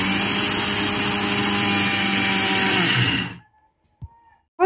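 An electric blender grinds rice into powder with a loud, steady high whir for about three seconds, then cuts off into near silence broken by a couple of small knocks.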